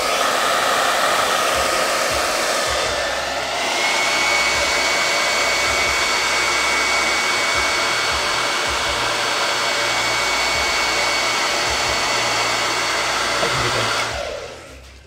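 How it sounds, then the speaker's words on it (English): A hair dryer blows continuously at close range, a loud steady whooshing hum for most of the clip before it cuts off at the end. "I'm just gonna grab my hairdryer a little bit here."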